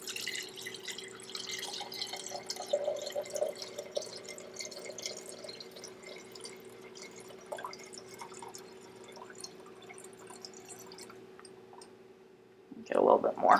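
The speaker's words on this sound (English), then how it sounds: "Then we're going to pour it inside our waste jar." A liquid field sample is poured through pantyhose stretched over a jar and drains into a waste jar, giving a steady trickle with small drips and clicks. A louder splashing pour comes at the very end.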